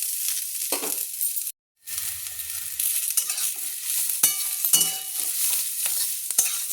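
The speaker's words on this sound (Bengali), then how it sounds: "তো এবার আমি এই সবজিটা একটু ভালোভাবে ভাজা করব।" Vegetables with drumstick flowers fry and sizzle in a pan, with stirring scrapes and a brief cutoff early on, then continuous close frying hiss with occasional clinks.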